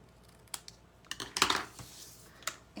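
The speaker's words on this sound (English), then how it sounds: "I'm going to take the You Are So and we're going to just cut it at an angle." Paper piece being cut at an angle with scissors for a card craft: a few sharp snips and clicks scattered across a quiet background, near and fairly soft.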